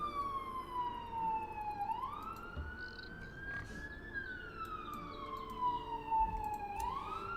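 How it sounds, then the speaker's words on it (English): An ambulance siren wails outside, its tone sliding up and down in slow sweeps, faint and distant against steady background noise with no one speaking. "except it's not a car alarm, it's an ambulance."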